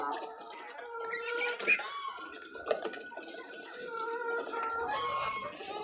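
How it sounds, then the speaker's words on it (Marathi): Farm chickens cluck and squawk busily while pecking at scattered feed in a village yard, with overlapping close calls and a couple of louder sharp cries. "आज फक्त कोंबड्यांनाच खायला टाकलं बरं का."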